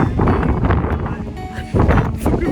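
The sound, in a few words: wind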